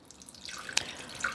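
Freshly squeezed lemon juice poured into a salad dressing, a light trickle with a couple of faint drips, close and quiet.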